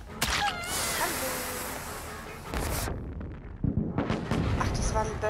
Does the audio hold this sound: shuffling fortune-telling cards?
no